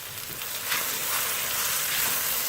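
Chilies sizzle and fry steadily in a hot pan, a continuous crackling hiss that is close and even, with no voices.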